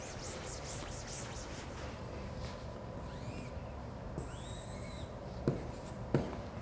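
Pen or marker drawing a graph on paper, a faint continuous scratching and rubbing up close, with soft squeaky strokes and two sharp taps near the end.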